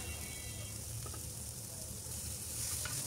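Ginger garlic paste frying with onion and green chili in a pan, a steady dense sizzle that stays even and close throughout, with a faint stir or two and no voices.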